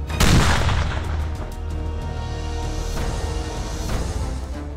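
A single deep blast set off in commando training for Indonesian KOPASKA frogman recruits, one sharp boom followed by a long rumbling roll that stays loud.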